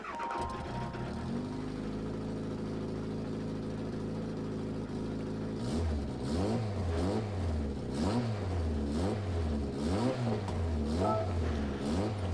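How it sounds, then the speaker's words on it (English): Toyota Supra GT500 race car engine in Gran Turismo cranks and catches, settles into a steady idle, then revs repeatedly in sharp rising and falling blips, loud and close with no talking. "we'll listen to the startup sound"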